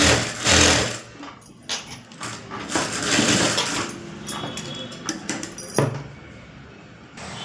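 Stitching the back neck of a blouse with canvas, a sewing machine runs in short, close bursts of rapid whirring separated by brief pauses and small clicks of handling.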